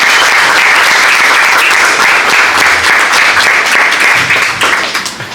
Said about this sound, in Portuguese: peço uma salva de palmas para o Rui